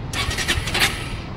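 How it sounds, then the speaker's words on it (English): A 2024 Bajaj Pulsar N150 E20 motorcycle fires up on its electric starter, a short burst of cranking that catches into a running engine, close and fairly loud. "This is how the bike starts."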